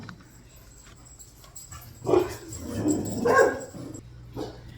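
Indoor dogs bark and whimper in a mix of short yips and whiny cries rising in the middle, fairly close, with a brief spoken word and low background hum.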